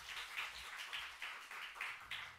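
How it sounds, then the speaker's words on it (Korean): A church congregation gives a round of applause at a Sunday service. Clapping is steady and dense throughout, with loudness rising and falling in repeated waves. "우리 박수 한번 하겠습니다."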